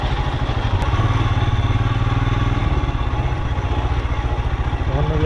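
Royal Enfield motorcycles run at a demo day, with a loud, steady thumping engine rumble close by throughout and some mechanical clatter.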